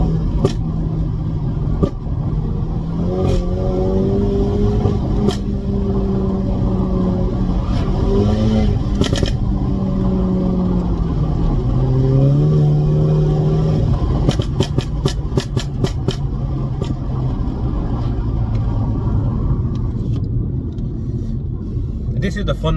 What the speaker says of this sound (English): I want you guys to obviously listen to how this car sounds, and just listen to how the car sounds.